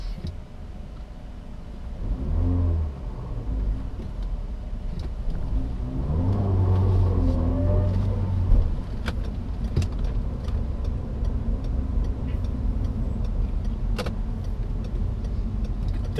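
Peugeot 307 2.0 180 Feline three-door from 2006, fitted with a stock 206 RC engine, revving in two rising and falling bursts over a steady idle, then settling back to a smooth even hum, no talk.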